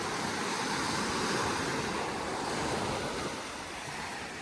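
Ocean surf at the beach on Sesoko Island, Okinawa, a steady, loud wash of breaking waves with strong current, continuous and close, easing slightly toward the end.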